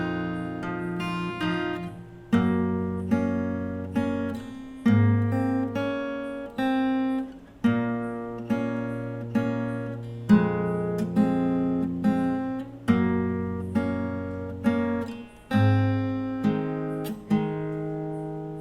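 Fingerstyle acoustic guitar plays the opening of a song slowly, with plucked notes and bass tones falling in a steady, unhurried pattern and no voice over it.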